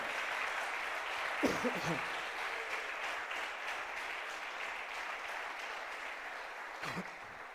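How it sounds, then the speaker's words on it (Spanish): A church congregation applauds steadily throughout, a broad sustained wash of clapping with a couple of brief voices or shouts rising above it. "Denle un aplauso al Señor."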